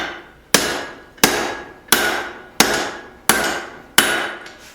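Six evenly spaced hammer blows ring out, each sharp strike decaying into a metallic ring, as bolt stock is forged and drawn out for tong rivets on an anvil; close and loud with no talk.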